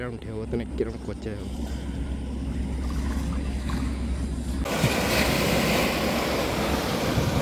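Wake waves from a passing red ship slap and churn around small boats on a river near Kolkata, with a low engine drone at first. A broad, steady wash of water noise swells louder midway and keeps rushing.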